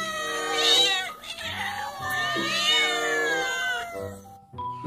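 A domestic cat meows repeatedly and loudly up close, with drawn-out, wavering cries and a short break in the middle.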